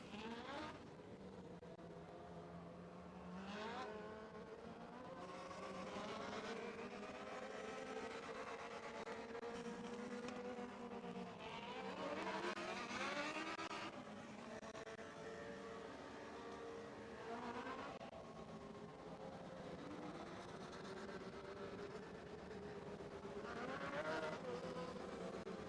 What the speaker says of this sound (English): Dwarf cars making their way out on the track.